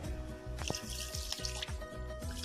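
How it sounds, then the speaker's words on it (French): Milk poured into mashed potatoes for a potato soufflé, a steady liquid stream with soft wet splashing and a few sharper knocks close by, no talking. "Je rajoute encore le lait"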